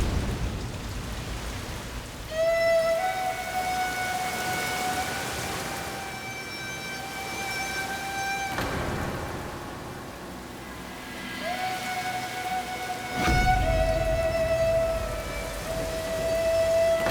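Steady rain falls at night with a dense, even hiss, joined by sustained tonal notes that rise and fade.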